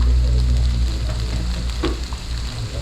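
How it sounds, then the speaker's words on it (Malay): Chicken sizzles and crackles in hot oil in a pan, a loud, steady frying hiss that fills the clip, with no one talking. "Dia nak goreng ayam, dia pakai baju cantik."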